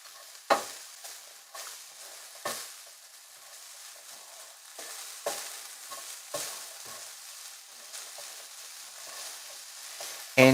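Chicken salad ingredients cook and are stirred together in a hot pan, with a steady soft sizzle broken by several sharp scraping, stirring strokes at irregular intervals, close and moderately loud, with no talking.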